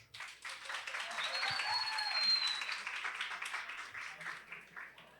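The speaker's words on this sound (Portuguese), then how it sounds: "Palmas para a Samara." An audience at a closing ceremony of a judicial memory week applauds, a dense patter of clapping that swells and then fades, heard moderately from within the hall, with a faint whistle-like tone and cheering mixed in.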